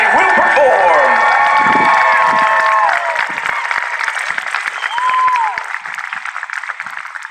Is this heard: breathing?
no